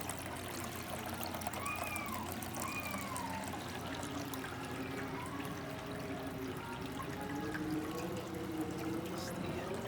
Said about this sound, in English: I always like little decorative water things like this.